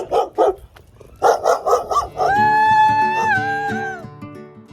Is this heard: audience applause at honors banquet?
no